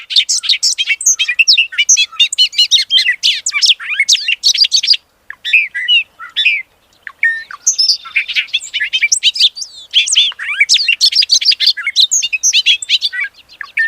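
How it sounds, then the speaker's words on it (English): A bobolink, an American blackbird, sings a rapid bubbling jumble of bright, tinkling notes in dense repeated bursts with short pauses, clear and close, with no other sound. "let me share with you the sound of the bobolink"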